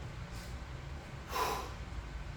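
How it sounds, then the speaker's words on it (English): Sharp nasal exhale during a garage back-and-biceps workout, one strong breath burst in the middle with a fainter one earlier, close and otherwise quiet. "Inhale, exhale."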